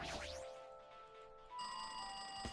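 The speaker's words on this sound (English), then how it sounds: "I hate the sound of phones ringing." Telephone ringing inside the video game Danganronpa 2, a steady electronic bell tone sustained through the whole moment, getting louder and brighter partway through, with no voices over it.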